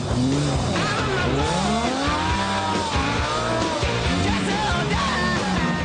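A Lamborghini Gallardo LP560-4 with four-wheel drive powering through corners on snow, its engine loud and revving in rising and falling sweeps with wheelspin whine, continuous and close.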